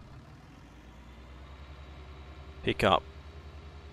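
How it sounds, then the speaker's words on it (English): A small Fendt tractor engine idles steadily at a low, even rumble throughout, with a brief burst of speech partway through. "jump in our little Fendt tractor"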